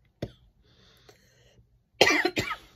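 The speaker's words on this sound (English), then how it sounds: "I keep coughing." A person with a sore throat and fever from Covid coughs: one sharp cough early on, then a loud burst of two harsh, close coughs near the end, with a faint breathy sound between them.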